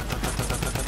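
Rapid, loud bursts of automatic gunfire from the Shadow Midas drum gun in Fortnite's zombie mode, firing in a steady, dense rattle with no talking.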